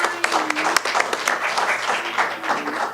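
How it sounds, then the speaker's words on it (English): A board meeting audience applauds in steady clapping that fills the room, with a voice speaking over it now and then. "stand up so we can all applaud the great job you did"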